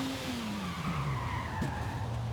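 Lamborghini Sian braking hard in Forza Horizon 5, its tires skidding and squealing in a falling whine over the engine for a couple of seconds. No voice is heard.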